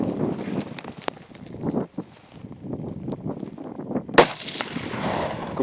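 A single sharp rifle shot during a deer hunt in open hill country at Molesworth, loud and near, cutting through quiet outdoor background and low muffled movement, with a faint earlier crack.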